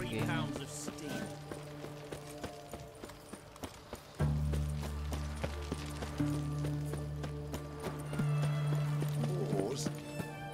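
Horse hooves clip-clopping and a neigh in The Witcher 3: Wild Hunt, rhythmic hoofbeats over game music and ambience, with a whinny partway through and voices speaking around it.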